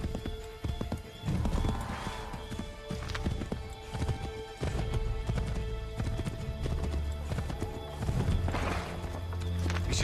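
Horse hooves gallop in Assassin's Creed III, a fast continuous clip-clop with occasional neighs and whinnies, mixed with game ambience and brief low voices.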